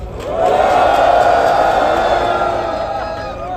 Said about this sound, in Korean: 뜨거운 함성과 힘찬 박수 부탁드리겠습니다